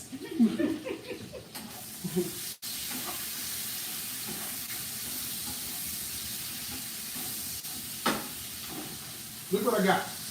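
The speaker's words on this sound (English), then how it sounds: "I just got onion, pepper, and bacon cooking up." Onion, pepper and bacon sizzle and hiss steadily in a frying pan, a close, continuous crackle that runs throughout, with a voice briefly speaking near the start and end.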